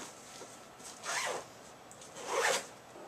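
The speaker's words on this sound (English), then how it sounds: "let's zip this bad boy up" A packed bag is zipped up in two quick, close strokes about a second apart, each a bright rasping burst against a quiet background.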